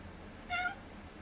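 A single short cat meow, close and clear, rising briefly over quiet room background.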